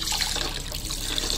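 Tap water pouring steadily into a deep pot for an egg freshness test, a continuous close hissing splash with no talking.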